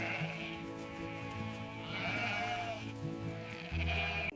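Sheep on a farm bleat several times, wavering cries rising over a steady musical background at moderate loudness, with no talking.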